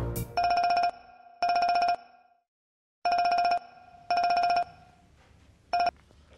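A telephone rings in five repeated electronic bursts, loud and close, with short gaps between them and a longer pause before the third, in an Indonesian drama scene during a call.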